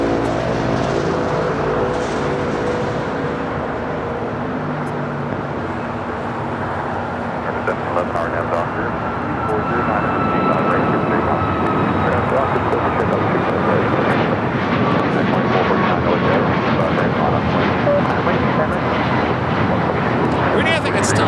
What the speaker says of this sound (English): 737 MAX 8, Alaska Airlines Flight 6 heading to Reagan National. Next takeoff here on the south side.